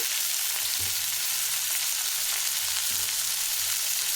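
Whole spices such as cinnamon bark and a couple of cloves, along with a small tomato, fry in hot oil for a mutton sambar, giving a steady broadband sizzle with a few faint low clinks of stirring, no voices.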